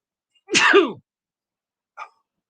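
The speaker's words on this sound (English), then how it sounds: "I had to sneeze." A single sharp, close sneeze, followed a second later by a brief faint vocal sound.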